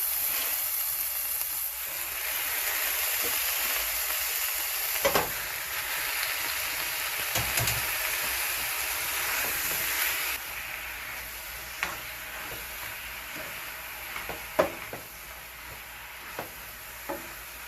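Nine ounces of washed spinach sizzles steadily in a hot pan, a constant close hiss broken by occasional stirring clinks and scrapes as the leaves are turned.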